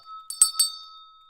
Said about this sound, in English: ringing a gong, ringing a bell